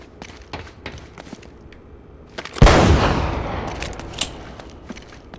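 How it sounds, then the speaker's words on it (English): A single loud gunshot in Uncharted: Drake's Fortune bursts out midway and decays over a couple of seconds, with a smaller sharp shot afterward and faint footsteps and clicks around it, no talking. "I need to stop wasting ammo like that"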